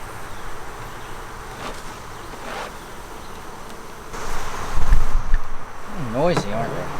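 Honeybees swarm around an open backyard hive during an inspection, a dense steady buzz with individual bees droning close past and rising in pitch, and a voice briefly speaking over the hum.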